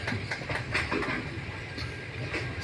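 Gour Express train waits at a signal approaching Sealdah railway station, giving a continuous rumbling, hissing rail noise with faint rhythmic clatter and no talk.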